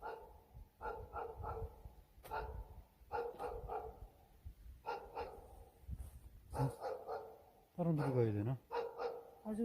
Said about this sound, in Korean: 개가 짖어갖고 못 가겠어